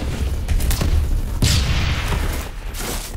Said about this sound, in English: the grenade is coming back